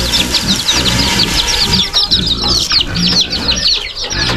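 Chickens on a snowy Tennessee homestead cluck and chatter continuously at feeding time, a close, busy flock of Easter egger and chocolate Orpington mixes calling over one another.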